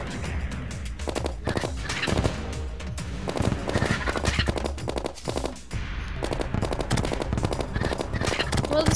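Gunfire fills a Terraria battle, dense rapid bursts of shots rattling over a steady loud mix of game effects and background music, continuous with no pauses.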